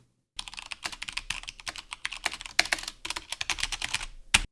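Rapid, continuous typing on an Asus ROG Azoth keyboard, close and crisp, with uneven bursts of clacking keystrokes and no voices.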